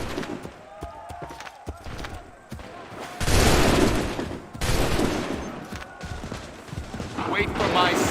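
Musket volleys in the video game Assassin's Creed III, with a quieter stretch of clatter and distant shots giving way to two loud, sustained bursts of massed fire, followed by lighter scattered shots.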